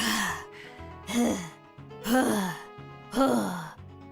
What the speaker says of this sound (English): He's been breathing harder during this outro.